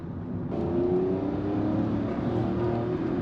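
A Hyundai i20 N-Line's turbocharged engine revs under throttle, a steady, fairly loud whirring drone that swells slightly after a brief softer start and holds without any voices.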